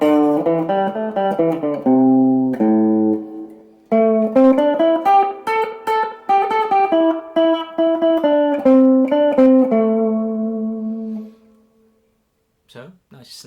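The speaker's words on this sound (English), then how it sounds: "We'll start off with the bridge pickup, which hasn't been changed in theory." An electric guitar on a Smiger Les Paul copy is played through its bridge pickup, with a close, clean melodic run of plucked notes and chords followed by a brief pause and a couple of strums.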